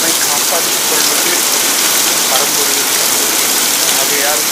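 Heavy rain pours steadily in Tambaram, Chennai, a loud, dense, continuous hiss with no breaks across the whole stretch.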